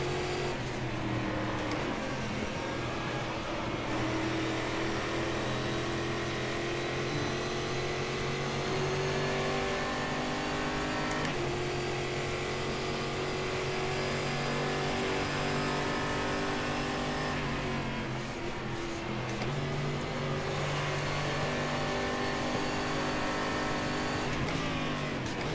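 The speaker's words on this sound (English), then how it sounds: "I love the way it sounds. Very nice and aggressive." A stock car V8 in the racing game Game Stock Car 2013 revs and roars continuously, its aggressive engine note rising and falling through gear shifts, loud and close with no talking.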